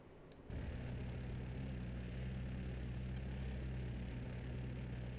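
Twin A-10C jet engines in DCS World spool up to full throttle after a brief click, settling into a loud, steady, close roar with a low harmonic drone that holds to the end.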